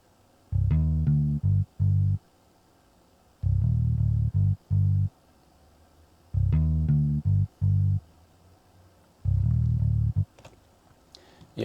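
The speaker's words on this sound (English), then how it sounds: "I laid down an acoustic bass. I used the Ibanez it's a stock plugin from FL Studio." An acoustic bass from the stock Ibanez plugin in FL Studio plays in short phrases of deep, round plucked notes, separated by brief silences and repeating a similar pattern four times, clean and prominent.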